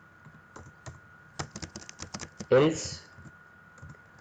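A computer keyboard clatters with irregular bursts of keystrokes while someone types code, with a brief spoken word partway through and faint background hum.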